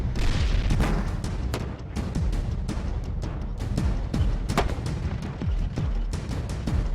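A rapid series of sharp bomb blasts and booms during army combat engineer training, some close and some distant, rumbling continuously with no talking.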